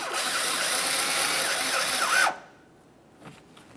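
A power drill drives a Phillips head screw into a car's bumper cover as a steady whirring burst lasting about two seconds, then cuts off abruptly to near silence with a faint click afterward.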